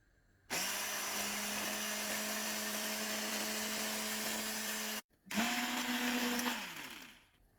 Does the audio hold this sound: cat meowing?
no